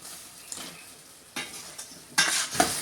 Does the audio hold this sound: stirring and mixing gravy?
yes